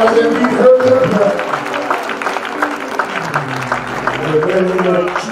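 Congregation in a Greater Refuge Temple church clapping hands at a worship service, a steady dense patter of many hands mixed with voices and musical tones throughout.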